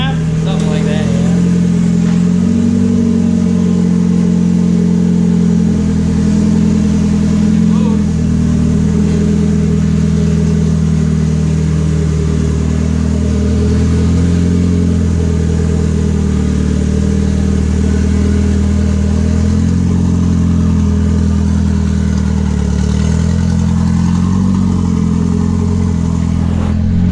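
A turbocharged Toyota Corolla engine runs loud and steady, idling with a rough drone and slight revs as the car is pulled out of a shop, with voices audible alongside it.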